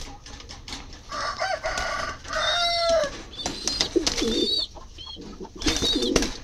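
Pigeons in a coop being handled while males are culled: repeated coos, flutters and clucks come close and clear, overlapping in bursts with short pauses between calls, and no one speaks.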